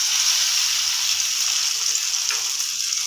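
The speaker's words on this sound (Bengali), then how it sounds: "ফ্রাইং প্যানে দিয়ে দেব" Cornflour-coated egg pieces fry in a frying pan, giving a steady, close hiss of sizzling oil with faint stirring clinks underneath, no voices.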